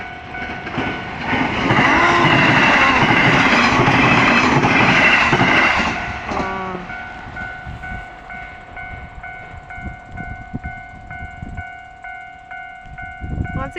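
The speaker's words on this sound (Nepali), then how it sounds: "यता खाजुता स्टेसनबाट पनि ट्रेन आउँदैछ" A train rolls loudly into Khajuta station in Japan, a rushing rumble with rail clatter that swells over the first six seconds, then fades while a steady electronic station bell keeps ringing alone in the background.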